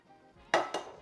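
Two eggs cracked into a bowl for a double chocolate zucchini bread, two sharp close taps about a quarter second apart after a quiet start.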